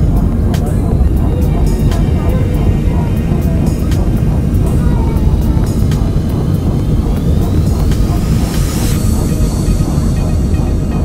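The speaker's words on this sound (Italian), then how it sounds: "Iniziamo il nostro atterraggio." Airliner landing at Lima, Peru: a loud, continuous roar of engines and cabin rumble throughout, with a faint hiss, heard from inside the plane.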